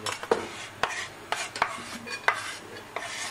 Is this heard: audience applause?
no